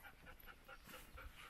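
A dog pants softly in quick, steady breaths, faint and close, with a few small whimpering tones mixed in.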